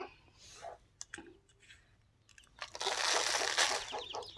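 Crunchy pecking and nibbling sounds as free-range country chicks eat feed, sparse at first, then a dense continuous burst of scratchy crunching.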